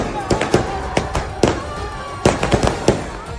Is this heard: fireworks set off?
yes